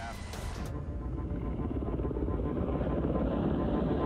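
Rescue helicopter hovering far out at sea, a loud continuous rotor thump and engine rumble, close and steady, with a voice briefly over it.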